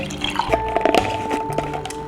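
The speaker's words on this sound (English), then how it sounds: "Fill my little cup." Watermelon-infused water pouring into a small cup, a short trickling fill with bubbly glugs and light drips, close and clear with no talking.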